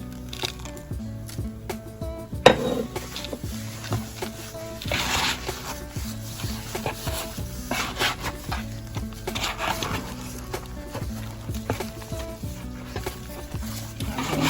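Turkey wings being worked by hand with olive oil and a home-blend seasoning, giving soft, continuous rubbing and squishing sounds over steady background music, with a sharper knock near the start.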